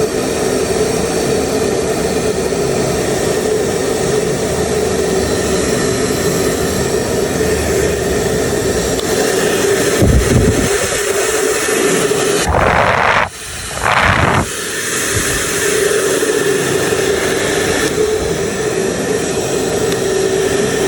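A Canal & Co DCF01 hairdryer blows a steady, loud, airy rush up close, which drops out briefly near the middle as a switch is changed before the whoosh resumes.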